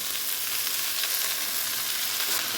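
Greens of red rajgira (amaranth) hit hot oil in a frying pan with turmeric, giving a steady, loud, even sizzle that runs unbroken throughout, with no voices.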